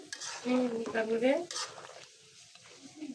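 Beef being stir-fried and sautéed in a pot, with scraping, stirring and a soft sizzle in the first half that fades to quieter cooking noise.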